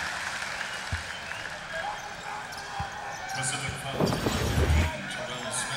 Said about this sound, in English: he draws the foul, and the crowd loves the effort from Quincy Pondexter.